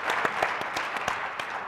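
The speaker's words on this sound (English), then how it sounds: "just to give them a round of applause for the work they've done" Audience applause for meeting organizers at a telehealth conference, a brief spell of scattered hand claps at moderate level, somewhat distant, with no voices over it.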